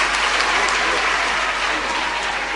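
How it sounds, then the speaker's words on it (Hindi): An audience at a Jain discourse by Subhushanmati Mataji in Idar, Gujarat breaks into loud, sustained applause, dense and continuous from start to finish. "सब बात जोर से ताली बजाइए"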